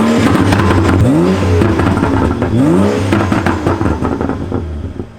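A BMW F30 335i sedan with a turbocharged six-cylinder engine revs nearby, two rising accelerating pulls sweeping up in pitch, then settles into a steadier drone that fades as the car drives off.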